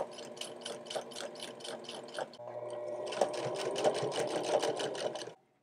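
A sewing machine runs close up, topstitching down the collar of a bomber jacket sewn from couch upholstery fabric, with a rapid mechanical rattle in two steady runs separated by a brief pause, then stopping.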